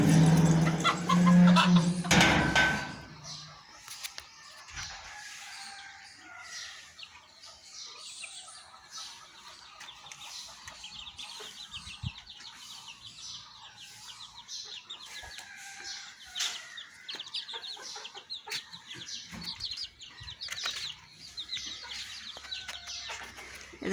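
Ducks calling for food, loud and close at the start, then quieter scattered quacks and chatter over a long stretch.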